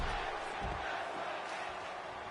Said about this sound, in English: Got a tag team wrestling chant here from the crowd